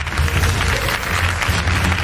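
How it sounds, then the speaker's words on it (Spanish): A television studio audience on Gran Hermano VIP claps dense, continuous applause for Jessica Bueno, fairly loud and unbroken, with no talking over it. "cómo aplaude la gente a Jessica Bueno cuando dice esto"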